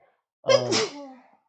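One short, close sneeze bursts out sharply and then tails off with a breathy release, with quiet on either side.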